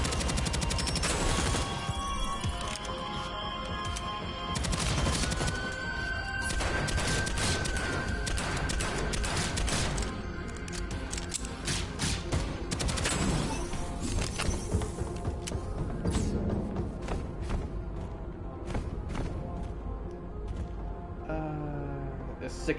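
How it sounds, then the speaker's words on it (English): SMG fire in the video game Deadzone: Rogue, rapid bursts of automatic shots repeating through the whole stretch, loud and dense, with someone talking over parts of it. "This one is a good little SMG."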